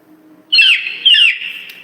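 A pet bird gives two close, loud chirping calls, each a quick bright twittering burst, with a quieter trailing tweet after a short gap indoors.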